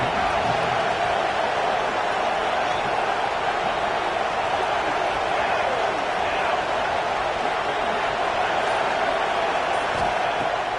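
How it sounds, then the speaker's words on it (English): Stadium crowd at a Nebraska football game roaring steadily on third down, a dense, sustained wash of cheering noise at high volume with no clear breaks, filling the whole span. "Crowd getting this defense whipped up on third down."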